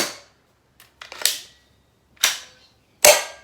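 M43 Gilboa gel ball blaster firing: several sharp, loud snapping shots spaced about a second apart, with a couple of fainter mechanical clicks between them, close and without talk.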